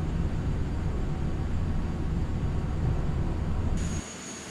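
Steady broadband roar of Bombardier CRJ700 jet engines in Flight Simulator X, holding a constant drone on approach before dropping away sharply near the end, leaving a thin high whine.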